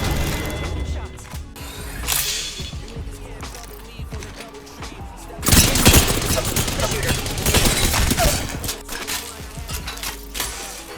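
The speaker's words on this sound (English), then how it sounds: "Getting shot at." Rapid bursts of gunfire in a shooter video game, sustained and loud with clustered volleys that swell midway, heavy and dense throughout.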